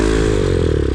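A Boom Vader motorcycle, a Grom-style clone, scraping against the ground while its engine revs loudly; a continuous, dense grinding clatter lasts about a second, close and loud.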